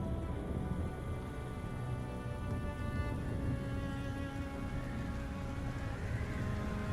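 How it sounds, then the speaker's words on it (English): Steady rain during a thunderstorm, a dense even hiss of drops falling on surfaces that holds constant the whole time, with no distinct thunderclap standing out. "thunderstorm"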